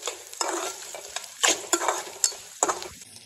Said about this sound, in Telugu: చక్కగా ఫ్రై అయిపోయాయి ఆయిల్లో.